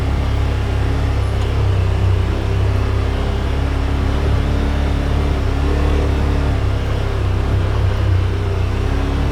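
A 2021 Yamaha Wolverine RMAX2 1000 Limited Edition UTV crawls in low gear over a dry rock field, its engine holding a steady, loud, close drone with low rumbling and no talk.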